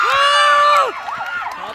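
Spectators at a local volleyball match cheer loudly, a sustained shout from many voices that fades into scattered yells and crowd chatter.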